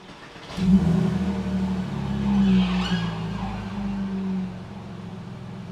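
A Porsche Boxster S 986 engine cranks and catches, revs up briefly, then settles into a steady idle rumble.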